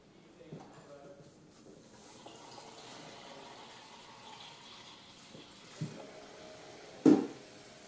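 Coolant pours and trickles into the fill port of a liquid cooling loop, a soft watery flow with a couple of clunks, under someone talking.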